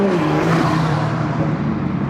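Toyota Supra with a B58 engine revving, a loud, steady rumble with a sustained low drone and harmonic whine, close and continuous throughout without any pauses.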